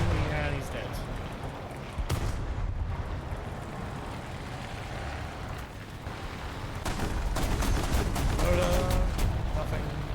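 Machine gun fire and tank combat in War Thunder, with bursts of gunfire and heavy battle rumble mixed into a dense, loud game soundscape, a voice talking over parts of it.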